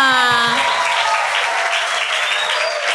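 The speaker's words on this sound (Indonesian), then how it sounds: "Tepuk tangan yang buat teman-teman semua." An audience at a campus orientation event claps steadily to welcome the speakers onto the stage, a loud sustained wash of applause with a voice calling over the start.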